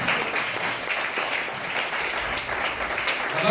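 An audience at a launch event for a children's home claps to welcome the children, a dense, sustained burst of applause that stays loud and even from start to finish.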